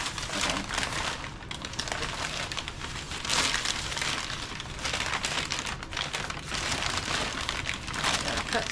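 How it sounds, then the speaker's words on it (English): Packing paper is crumpled and pulled from a shipping box up close, a steady dense crinkling and rustling with louder bursts, no talking. "I think I'm gonna take some of this paper off."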